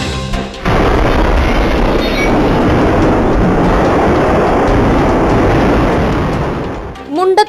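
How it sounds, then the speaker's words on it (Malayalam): An explosion at Mundathikode blasts out house window glass, caught on CCTV: a sudden loud burst followed by a sustained, roaring wash of noise that lasts several seconds before dying away abruptly. "ജനൽ ചില്ലുകൾ ഉഗ്രശബ്ദത്തോടെ പൊട്ടിച്ചിതറുന്ന CCTV ദൃശ്യങ്ങളാണ്"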